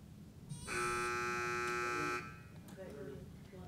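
A loud, harsh electronic quiz buzzer at a Hi-Q academic quiz match sounds once for about a second and a half, with murmuring voices in the room around it.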